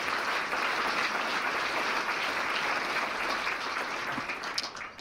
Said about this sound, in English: So please give them a round of applause and thank any of them you know.